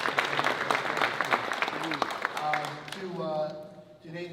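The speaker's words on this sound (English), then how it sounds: "let's just give a nice round of applause to our singers." Audience applause for singers at a Lincoln High School grant announcement, a dense wash of clapping that thins out as a voice begins speaking over the tail end.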